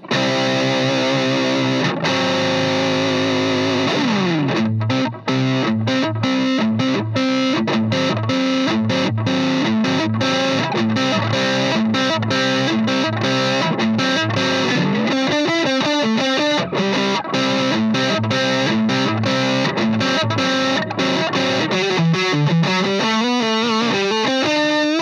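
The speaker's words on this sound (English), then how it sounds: "let's keep the distortion on and listen to the neck pickup." PRS Wood Library Fatback Custom 24 electric guitar played through its neck pickup with heavy distortion: loud, continuous overdriven chords and riffs with rhythmic picking throughout, no voices.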